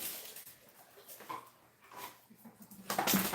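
A pet dog named Sushi makes soft whimpers and small yips while a child plays with it, faint and intermittent in a quiet indoor room.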